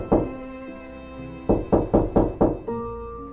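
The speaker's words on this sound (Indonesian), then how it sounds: "ketukan itu terdengar semakin keras" Knocks land on a village house's front door at night: one thud, a pause, then five rapid firm knocks, all over a low sustained musical drone.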